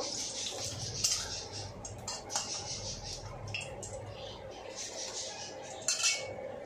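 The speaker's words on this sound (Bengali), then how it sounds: "আমি এবার এই বড়াটা তুলে নেব।" A metal utensil clinks and scrapes against a pan as a fried ash gourd fritter is lifted out, a few sharp taps over faint sizzling.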